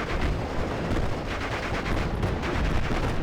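MG34 machine gun fire in Steel Division: Normandy 44, dense sustained bursts of rapid gunfire blended with other battle noise, loud and continuous throughout.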